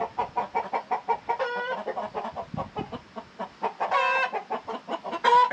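Repeated clucking from a nearby old rooster on a ranch, steady and rhythmic, with a few louder, higher calls breaking through toward the end.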